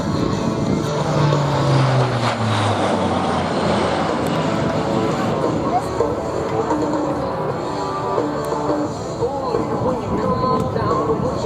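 Four-engine Rolls-Royce turboprop military transport at a Marine Corps air station airshow in Beaufort, South Carolina, a loud sustained engine roar passing nearby with a falling drone and crowd ambience underneath.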